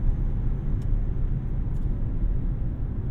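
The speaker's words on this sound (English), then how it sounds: "there's a considerable amount of turbo noise, you know, coming from this area here" A 2024 Hyundai Kona 1.6T AWD accelerating, heard from inside as a steady low engine and turbo rumble with a faint whine above it, continuous and close, with no talk.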